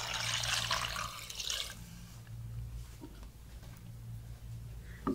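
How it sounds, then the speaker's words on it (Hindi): Two cups of water poured into a mutton and potato curry, a loud splashing pour that lasts under two seconds, followed by quieter stirring and low kitchen hum. "और साथ ही मैं इसमें 2 कप पानी ऐड करूंगी।"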